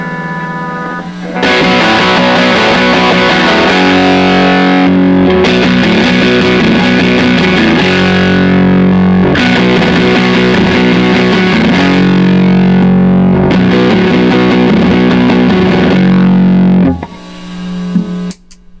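Heavily distorted electric guitar chords from a Squier J Mascis Jazzmaster through a MOSFET boost into a Fender Musicmaster Bass amp, played loud and sustained in repeating phrases, thick and overdriven, then cutting off near the end.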